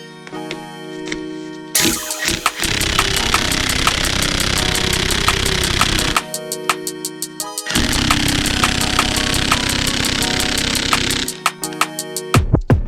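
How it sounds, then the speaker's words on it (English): Loud pneumatic impact wrench with a 19mm socket working an engine bolt during an engine teardown, two long sustained buzzing bursts separated by short pauses and clicks. "now we're gonna remove this bolt right here using 19mm"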